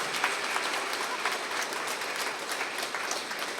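Sustained audience applause at a student honoring ceremony, a dense, even wash of many hands clapping together, loud and close throughout with no voices over it.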